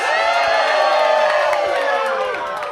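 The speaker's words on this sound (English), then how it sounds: "To rapturous and thunderous applause." A large crowd cheers and whoops loudly and continuously, with voices shouting over a dense, steady roar of excitement that holds through to the end.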